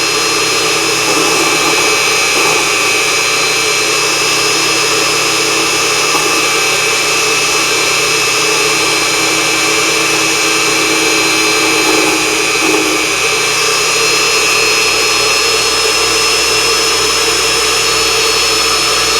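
An Unimat SL1000 mini lathe turns a length of rebar in its chuck, giving a steady, loud, unbroken whine and hiss that holds without pause from start to finish.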